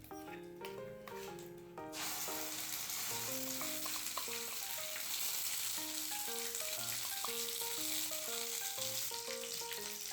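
Paste of ginger, green chili, garlic and onion hitting hot oil for a paneer chana masala, giving a steady bright sizzle that starts abruptly and continues evenly, with music playing throughout.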